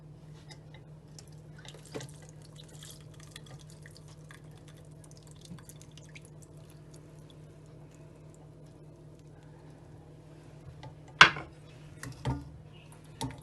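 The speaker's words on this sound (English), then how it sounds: "if I get a sieve and I pour it into that" Partly solid, curdled milk poured through a sieve, heard as faint, sparse drips and soft liquid patter over a quiet background, with a few louder splashy spatters near the end.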